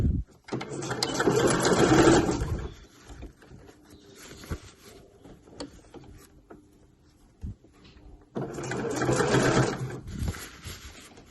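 A sewing machine stitches in a circle around a fabric bag tube with the presser foot inside it. Two loud, steady bursts of motor whirring come up close, one at the start and one near the end, with quieter handling noise between them.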